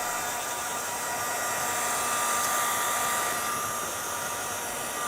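A heat tool or dryer drying an ink-stamped craft project, blowing a steady, even, loud whooshing roar that continues without a break throughout; no talking.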